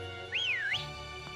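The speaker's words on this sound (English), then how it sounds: "Oh, I can whistle." A character whistles in the video game Pokemon Shield, one short rising-and-falling whistled tune lasting about half a second over a quiet game background.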